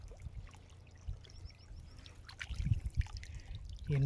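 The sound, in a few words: water being poured out to catch fish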